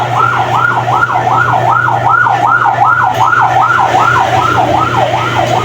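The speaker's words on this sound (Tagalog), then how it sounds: "May ambulansya pa oh." An ambulance siren wailing through heavy rain near a mall, a loud rapid rising-and-falling yelp repeating steadily over the hiss of rain and a low engine rumble.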